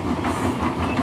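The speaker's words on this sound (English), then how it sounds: "Clickety-clack, clickety-clack, the old-fashioned sound of a train coming down a railroad track" An old-fashioned train rolls steadily along a railroad track on the Arlington line, its loud, close clickety-clack rhythm filling the moment with continuous rumbling and no voices.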